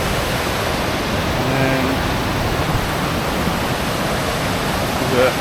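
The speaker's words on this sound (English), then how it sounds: "This is downstream a little bit of Tadlo waterfall." Steady broadband rush of river rapids just downstream of Tadlo waterfall, constant and fairly loud, with someone speaking briefly over the water.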